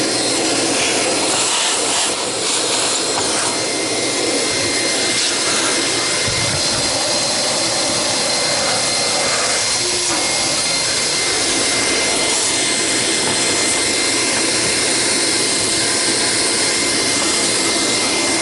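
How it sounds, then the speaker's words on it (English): A Dyson DC28 vacuum cleaner runs steadily and loudly throughout, a constant high-pitched whine and rush of air with no pauses. "vacuum out what I can"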